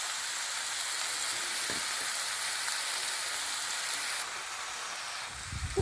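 Minced meat, onion and red peppers frying in a pan, a steady close sizzle that softens near the end, with a couple of small clinks.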